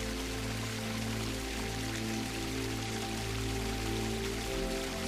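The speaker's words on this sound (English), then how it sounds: "Its most famous jewel is Multnomah Falls, dropping in 2 elegant tiers for a total of 620 feet." Multnomah Falls, Oregon's tallest waterfall, dropping 620 feet in two tiers, makes a steady, dense roar of falling water that stays constant throughout, heard alone with no voices.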